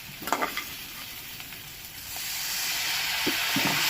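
Fish head frying with spices in a pan, a few sharp ladle scrapes and stirs at the start, then a steady close sizzle and hiss that swells gradually, with occasional light clinks.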